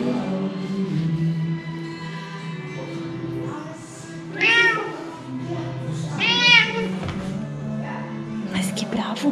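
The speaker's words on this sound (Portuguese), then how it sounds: "Mais um gatinho" A cat meows twice in a house, with clear rising-falling cries standing out over steady background talk and room hum.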